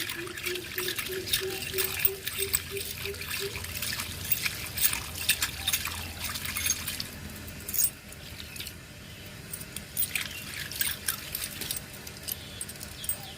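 Cleaned metal keys rinsed under running water, with steady splashing and trickling tap water, light jangling and clinks of the keys, and a soft voice talking in the background.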